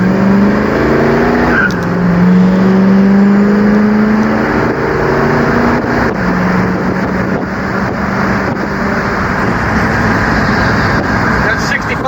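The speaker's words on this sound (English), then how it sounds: "Give it a little gas here" A 1967 Pontiac Firebird convertible with a factory 400 engine revs loudly and steadily up close, its exhaust rising and falling through several throttle blips with no gaps.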